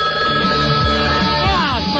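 A telephone rings with a warbling electronic trill, repeating its tone in quick pulses, loud and close with no talking.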